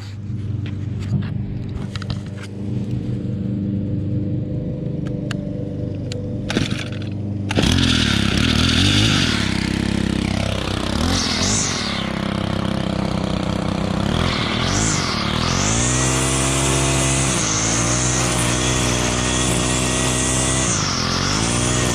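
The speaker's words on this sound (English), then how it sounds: "hopefully I can show you a little bit of the string trimming" A string trimmer edges a lawn, its engine whining loudly nearby with rising and falling pitch as it revs and cuts, over a running rumble that swells midway.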